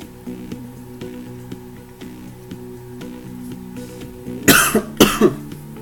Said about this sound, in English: I've got an old man cough